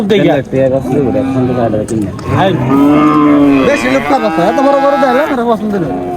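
A cow at a livestock dealer's lows loudly and close by in long, drawn-out moos, one after another, while people talk over it.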